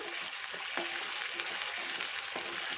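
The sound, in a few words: spice paste frying for koi fish curry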